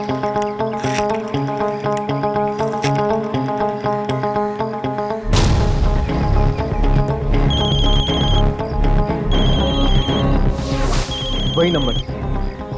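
A landline phone rings with a repeated electronic tone over loud background music in a horror TV show, the rings sounding in regular bursts.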